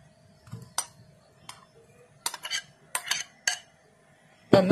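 Cooked cauliflower being mixed into a mixture for a snack, heard as scattered close clinks and scrapes of a spoon against a vessel in short irregular bursts over a quiet background, no talking.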